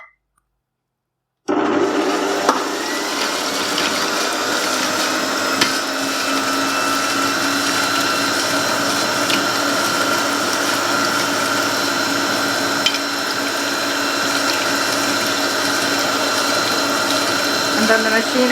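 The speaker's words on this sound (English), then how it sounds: "the machine will move everything around and dissolve the yeast" A kitchen machine switches on after a brief pause and runs steadily, mixing milk and yeast with a continuous whirring, churning drone and faint mechanical ticking, close and alone.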